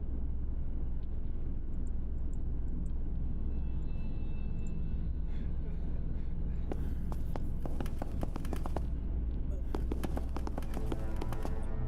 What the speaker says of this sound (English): A loud and persistent hum drones just beyond the iris portal, the vibrations of which drum and dance along with the nearby framework.